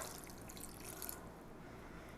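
Liquid, about half a cup of a bread pudding mixture, pours steadily into a bowl in a home kitchen, a soft continuous trickle close to the mic with no talking.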